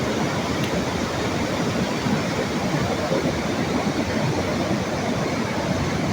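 A strong flood-swollen river current roars in a dense, steady rush near a bridge during heavy rain, loud and unbroken with no voices.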